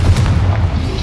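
A Confringo spell explosion goes off in Hogwarts Legacy, a single deep, loud boom with rumbling low end that fills the short moment, heard alone without talk.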